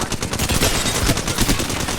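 Rapid automatic gunfire in an Apex Legends match blazes almost without pause for two seconds, loud and close, a dense crackle of shots with no talk over it.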